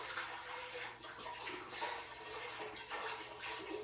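Chicken broth pouring from a container into a soup pot for potato leek soup, a soft continuous gurgling splash that runs the whole time, fairly quiet and close, with no talk.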